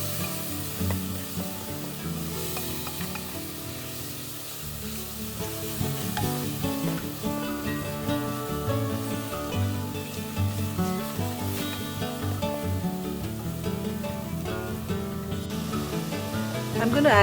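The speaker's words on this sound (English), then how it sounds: "We continue to fry this paste till the raw smell of the shallots and the ginger and garlic disappears." Shallot, ginger and garlic paste frying in a pan for a pork curry, a steady close sizzle that continues throughout, broken by occasional stirring scrapes.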